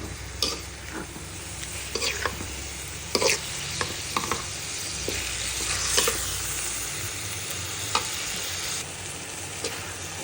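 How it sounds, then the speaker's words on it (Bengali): Minced meat and onions fry in a pan, a steady sizzle broken by repeated scraping strokes and knocks of the stirring spoon, close and fairly loud throughout. "আমি পেঁয়াজের সাথে এটাকে আগে একটু কষিয়ে নিচ্ছি যাতে কাঁচা গন্ধটা দূর হয়ে যায়"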